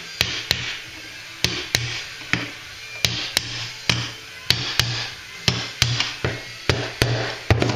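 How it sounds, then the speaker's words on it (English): Metal punch struck repeatedly with a hammer to drive a pin out of a Triumph TR3A pedal box, about fifteen sharp close metallic blows in an uneven rhythm, each with a brief ringing tail, no talking. "You can take a punch and drive this out."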